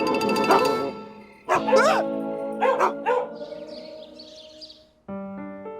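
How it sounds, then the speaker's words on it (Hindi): A dog barks several times in sharp, close bursts with yelping tones, mixed with other household sounds in a comedy scene. "मेरे को कुत्ते ने काट"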